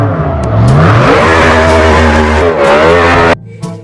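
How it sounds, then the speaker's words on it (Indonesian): Toy race car making a loud, continuous engine revving and vroom sound with rising and falling pitch that abruptly cuts off near the end, heard alone without talk. "mobil balap racing"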